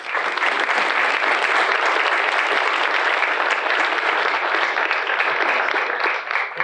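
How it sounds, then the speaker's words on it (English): Sustained, dense applause from an audience at a university homecoming crowning ceremony, loud and even throughout before tapering slightly at the end. "join me in giving them all a round of applause."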